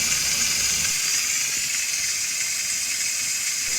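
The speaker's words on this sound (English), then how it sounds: "listen and watch for a steady stream of steam to build up" A pressure canner in a home kitchen vents a steady stream of steam, a constant bright hiss that holds evenly at moderate volume with no voices.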